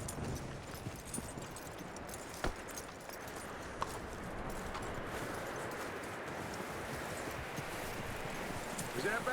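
Horse in Red Dead Redemption 2, with steady hoof clip-clop and faint rustling over a dense, continuous outdoor ambience, plus a couple of sharp transients; talk in the game runs alongside.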